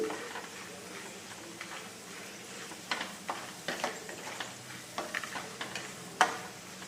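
Grated coconut and peanuts being carefully roasted in a pan for Khandeshi brinjal bharit, a soft low sizzle with scattered scraping and clicking stirs growing more frequent, close and quiet.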